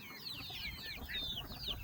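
Ameraucana chickens cluck and squawk close by in a barnyard, a run of short rising calls repeating over a low rumble of background noise.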